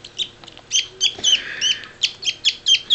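A baby parakeet gives a rapid series of high, thin chirps while being hand-fed, repeated in quick bursts, close and fairly loud against a quiet background.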